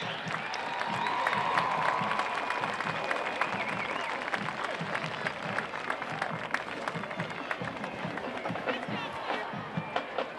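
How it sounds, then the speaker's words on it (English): A high school football crowd at a Chardon vs West Geauga game gives a round of applause, mixed with cheering and chatter, a broad, slightly distant roar of clapping that holds steady across the stands. "how about a nice round of applause for the future Hilltoppers?"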